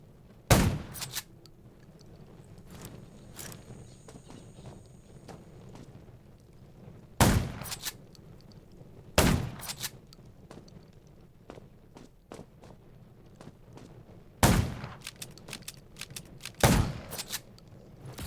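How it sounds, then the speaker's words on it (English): Several loud, sharp gunshots in the video game Undawn ring out at uneven intervals, some in quick pairs, over a low rumbling game ambience with faint footsteps. "Gunshots will attract more."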